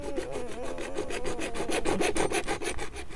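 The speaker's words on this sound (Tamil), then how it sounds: "இப்போ நம்ம முக்கா பைப்பை ஒரு 2 அடி கட் பண்ண போகிறோம்." A hand saw cuts a two-foot length of three-quarter-inch PVC pipe with quick, regular back-and-forth strokes, close and loud with no talking.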